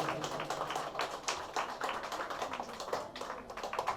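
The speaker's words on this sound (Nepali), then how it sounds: "जोरदार तालीले सम्मान गरौँ पूज्य महाराजीलाई" A crowd at a religious gathering claps to honour a revered guest, a dense patter of applause that sounds faint and distant throughout.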